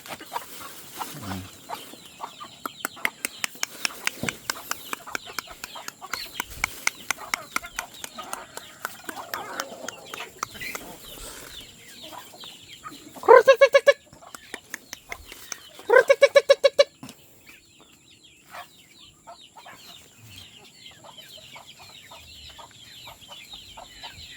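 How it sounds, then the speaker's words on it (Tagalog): Chickens cluck and squawk repeatedly, scattered bursts of clucking with a couple of louder squawking outbursts in the middle, fairly close. "Kuha tayo ng manok."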